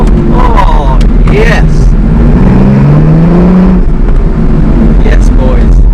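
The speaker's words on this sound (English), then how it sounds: "I think we'll be able to accelerate a tiny bit down here" An Aston Martin supercar accelerates in a convoy on the road, its engine roaring loud and close under excited talk, with a rising and falling pitch as it pulls.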